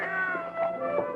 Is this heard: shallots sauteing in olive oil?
no